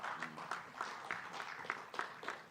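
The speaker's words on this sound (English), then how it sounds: "please help me with a round of applause to welcome him to the podium" Audience applause greeting a speaker at the podium during an annual conference session in a village tent, a steady, moderately distant patter of many hands clapping at once.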